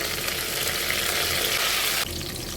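Sliced onion, bay leaf, cinnamon, cloves, cardamom, shahjeera and star anise frying in hot oil for chicken haleem, a steady dense sizzle that stays loud throughout and dips slightly near the end.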